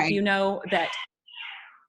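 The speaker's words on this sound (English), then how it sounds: "that's a cat fighting in my house" A cat meowing inside a house as if in a fight, one short, raspy cry heard alone right after a person's voice stops.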